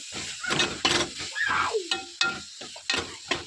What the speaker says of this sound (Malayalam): എന്നിട്ട് അതിലേക്ക് തക്കാളി ചേർത്ത് നന്നായിട്ട് വഴറ്റണം